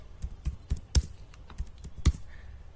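Close, crisp keystrokes on a computer keyboard while entering text into an Excel sheet, a handful of irregular taps with one or two heavier key presses, no voices.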